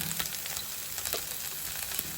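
A little oil poured into a cleared gap in a pan of cooked food sizzles with a soft, steady crackling hiss and a few faint pops, close by and without speech.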